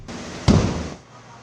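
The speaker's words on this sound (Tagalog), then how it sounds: "Sa gitna ng pag-apula, dumagundong ang tatlong pagsabog." A single loud blast from LPG tanks exploding in a burning warehouse, an abrupt boom followed by a roaring, decaying rumble over steady fire and hose noise.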